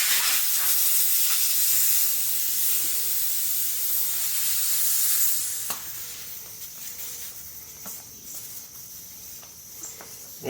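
Air hissing steadily into a trailer tire on its rim during inflation, a bright continuous rush that drops noticeably quieter midway, then continues softer with faint clicks.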